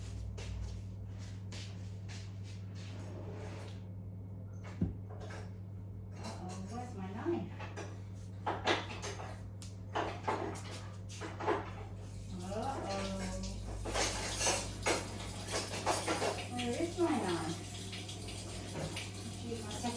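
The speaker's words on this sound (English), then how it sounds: "Let me just get a good knife" Rummaging through kitchen utensils for a knife while cooking seasoned chicken and rice, with metallic clinks and clatters of cutlery and pans over a steady low hum and running water, and a person speaking now and then.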